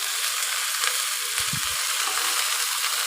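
Okra stir-fries in a heavy-bottomed kadai, a steady loud close sizzle with a brief low clunk of stirring midway and no voices.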